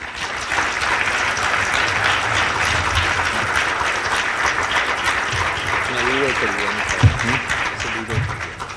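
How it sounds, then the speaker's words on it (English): Sustained audience applause for a panel at a university academic symposium, a dense even roar of many hands filling the whole stretch, with a voice briefly speaking over it near the end. "I would like to have you give them an applause for what you have seen tonight"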